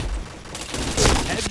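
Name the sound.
gunfire in a video game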